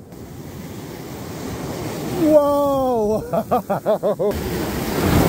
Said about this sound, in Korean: 파도가 미쳤습니다